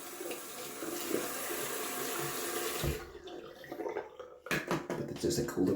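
Cold water runs steadily from a tap into a sink, then cuts off, followed by bursts of splashing and running water close by.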